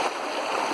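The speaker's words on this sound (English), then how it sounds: "the water has its certain language. And it's just going to keep flowing like this" A stream flows steadily in a continuous, bright hiss of moving water with small bubbling and gurgling. The sound is close and even, with no voices.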